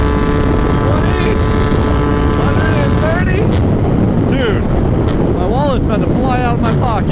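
A Gilera Runner 172cc scooter rides fast with steady, loud wind-buffeted engine noise and water splashing, while a rider's voice comes through in places.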